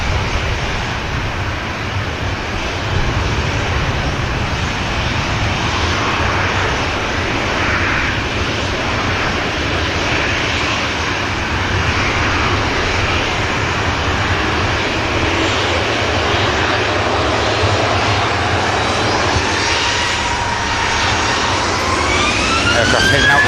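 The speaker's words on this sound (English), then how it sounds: "Aircraft heading out to Porto." Jet airliner departing a Manchester Airport runway, its engines a loud sustained roar with a rising whine toward the end, heard from nearby with a voice speaking over it.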